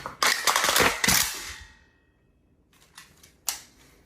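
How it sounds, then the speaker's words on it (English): An AK rifle is reloaded in a quick series of sharp metallic clacks and rattles, close and loud. A short pause follows, then a couple more crisp clicks, with a final snap toward the end. "AK reload."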